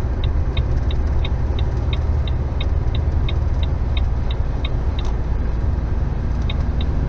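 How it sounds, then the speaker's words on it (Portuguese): A car overtaking on the BR-146 highway at Serra do Salitre in Minas Gerais, a steady loud road and engine rumble inside the vehicle with a regular ticking indicator signal through most of it. "estamos fazendo uma ultrapassagem aqui"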